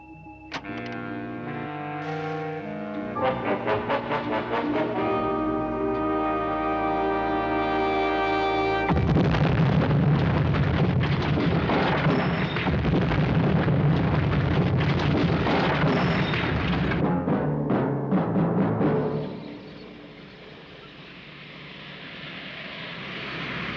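In the 1967 Captain Scarlet and the Mysterons episode, Major Brooks explodes: tonal music gives way to a long, loud, roaring blast that rumbles for about ten seconds before dying down to a low hiss.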